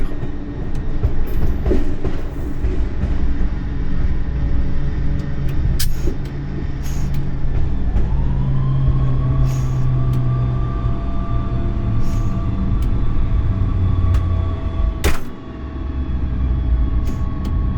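A BB 22200 electric locomotive rolls slowly over rail switches into service tracks, with a steady loud rumble, rhythmic wheel clatter and a rising hum from the cab, no voices.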